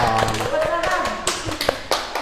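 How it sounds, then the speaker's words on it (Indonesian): A few people clap sparsely at an investment education event in Palu. The claps come as scattered, uneven taps under a speaking voice, and the clip lasts only about two seconds. "Itu dia, tepuk tangan dulu dong"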